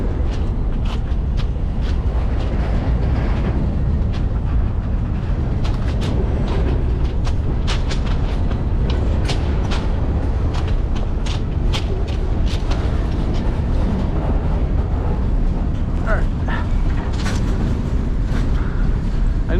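Steady rumbling of a freight train rolling between Peoria, Illinois and Clinton, Iowa, heard from aboard a car, with continuous low-end roar and scattered metallic clanks and squeals throughout.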